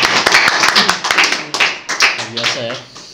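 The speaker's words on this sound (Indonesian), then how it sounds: "Tepuk tangan dulu." An audience claps hands at a religious study gathering with an ustadz, a burst of dense, fairly close applause mixed with voices talking over it.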